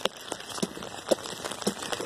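Steady rain falling outdoors at night during a walk, a continuous broadband patter with scattered sharper drops striking nearby surfaces, moderately loud and close, with no voices.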